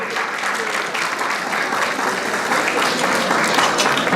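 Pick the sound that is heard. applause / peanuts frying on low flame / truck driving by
applause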